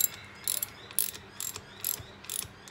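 A ratchet turning a 14mm socket while fitting the head on a Honda CT110 postie motorcycle, five or six short clicking runs in a steady rhythm, close and fairly quiet with no talk.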